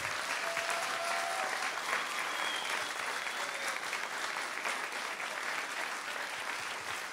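Audience applause fills a school's end-of-year music concert, a steady dense wash of clapping from a large crowd that holds at an even level throughout, with no voices standing out.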